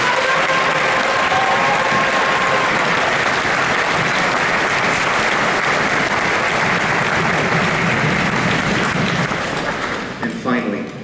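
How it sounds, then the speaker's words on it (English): Dense, steady applause from a concert band audience at Sonoma State's honor band weekend fills the space, loud and continuous before thinning out in the final second. "How about a round of applause for those folks?"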